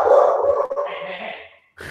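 A dog close by lets out a single short bark or whimpering yelp that fades away, and a brief voice follows near the end.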